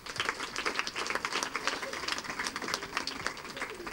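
Audience applauding a school management committee president at an event, steady dense clapping throughout, fairly close, with a few voices mixed in.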